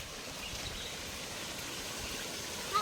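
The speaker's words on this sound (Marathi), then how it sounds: "धबधबाचा आवाज येत आहे आम्हाला." A jungle waterfall heard on a trek makes a steady, soft rushing wash of falling water, constant and fairly distant, with no voices.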